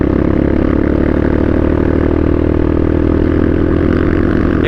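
A Yamaha XTZ motorcycle converted to classic style rumbles steadily while riding on a rural road, a loud continuous engine drone with throbbing low harmonics and no voices.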